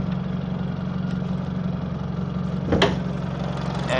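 A Suzuki Baleno 1600 cc car engine idles with a steady, low, even hum at close range, with a brief clatter partway through.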